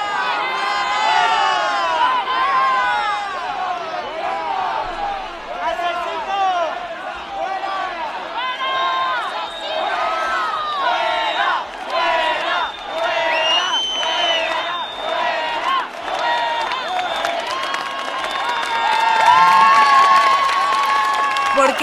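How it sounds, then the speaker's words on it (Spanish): An angry crowd outside Spain's Congress shouts chants and boos in a loud, continuous din of many voices, with individual cries rising above the mass throughout. "Le echaron bajo gritos de fuera fascistas y con un abucheo unánime"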